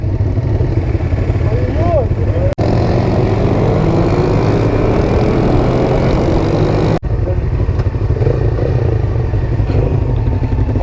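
Honda CB500 and Suzuki Bandit 600 motorcycles racing on a road, with loud continuous engine roar rising and falling through gear changes, heard close, with wind buffeting.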